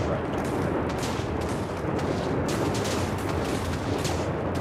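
Video-game thermonuclear missile explosions: continuous loud, dense rumbling blasts with repeated booming bursts, a barrage of massive explosions filling the whole stretch without pause.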